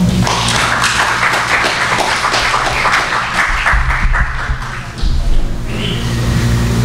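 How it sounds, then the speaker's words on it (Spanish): Audience applause at a talk on dance and music registry, a loud burst of many hands clapping with some close, sharp claps, easing briefly before swelling again toward the end. "Por favor, fuertes palmas."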